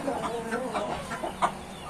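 Several short clucks in a row from a Gurk hen against a busy farmyard background, fairly close and moderately loud.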